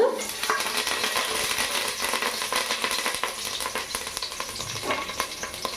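Curry leaves crackle and sizzle in hot oil for a fish curry, a dense, steady frying hiss with sharp spattering pops throughout, close and fairly loud.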